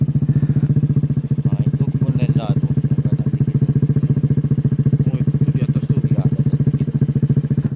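An ojek motorcycle taxi engine idles close by with a steady low throb, carrying passengers who are gold miners from Lebong Simpang near the coffee village of Mangkuraja, with faint clatter and occasional voices over the continuous drone.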